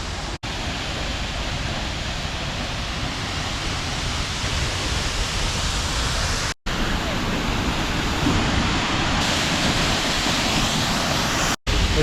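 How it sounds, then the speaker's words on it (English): A waterfall in Iceland roars as steady, close broadband rushing water, constant and dense throughout, with faint wind buffeting, under light rain, and a couple of brief dropouts. "Smaller one. You can hear it. Majestic. You can actually walk behind the waterfall."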